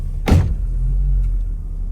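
A Mazda car with a fault reverses up a slight hill: a steady low engine rumble, close and alone, with a short sharp thump near the start.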